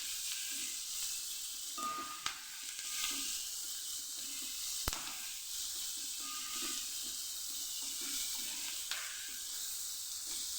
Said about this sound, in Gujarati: બધું સરસ મિક્સ કરી અને આપણે સાતળી લેશું।